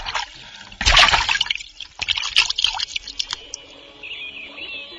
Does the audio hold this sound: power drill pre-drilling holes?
no